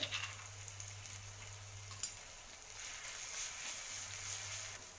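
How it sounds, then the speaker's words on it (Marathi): Garlic, green chili and onion sautéing in a pan, a soft, steady sizzle with faint stirring scrapes, heard up close and alone at low volume. "लसूण मिरची कांदा व्यवस्थित परतून घेतला"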